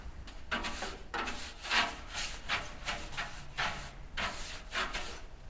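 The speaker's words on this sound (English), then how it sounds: "What I'm going to use is a soft bristle brush everywhere" A soft bristle brush sweeps ash out of a Lanair waste oil heater in a shop, giving repeated scratchy strokes in an uneven rhythm, close and moderately loud with no talking.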